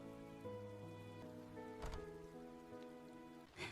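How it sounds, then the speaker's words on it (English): Rain hammers steadily against the windows of a dark, silent bookshop, a continuous wash of drops heard under soft sustained musical tones, with no voices. "except for the rain hammering against the windows"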